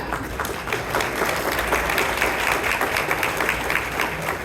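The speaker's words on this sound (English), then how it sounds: "And clap." Audience applause at a charity fundraising dinner in Chicago, a steady wash of clapping from a crowd that holds evenly for several seconds at moderate volume, with little else over it.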